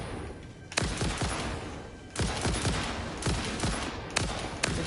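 Rapid automatic gunfire from the video game Satisfactory comes in several sustained bursts of loud, closely spaced shots, each volley fading briefly before the next begins, with no talking.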